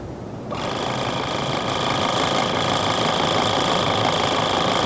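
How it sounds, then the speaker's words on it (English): A portable electric tire pump plugged into a Jeep's cigarette lighter switches on after a brief pause and runs with a steady, close, buzzing motor drone that holds unchanged to the end. "Use that portable electric tire pump. Just plug it into your vehicle's cigarette lighter and refill them back to highway pressure."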